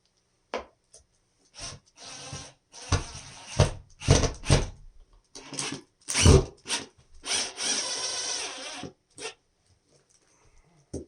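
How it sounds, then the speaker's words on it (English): A power drill drives sheetrock screws into wall panels for a DIY corner light, heard as several short, loud whirring bursts separated by pauses, close by with no talking. "I'm going to come back with some sheetrock screws. I'm going to put one on each panel."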